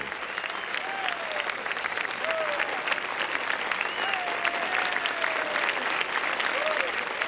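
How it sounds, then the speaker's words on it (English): Sustained applause from a large golf gallery at the Masters as leader Ed Sneed walks up to the green, steady dense clapping throughout with a faint whistle-like tone drifting over it. "the walk up of the leader, Ed Sneed, to the applause of this fine, fine gallery"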